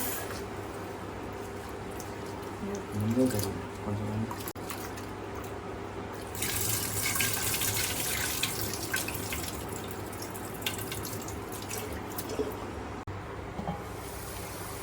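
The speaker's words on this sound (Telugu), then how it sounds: "నేనైతే ఇక్కడ వాష్ చేసి వేసుకుంటున్నానండి రైస్ని." Rice is washed under running tap water, a steady hissing flow with sloshing and splashing bursts as grains are stirred in the water, close and moderately loud throughout.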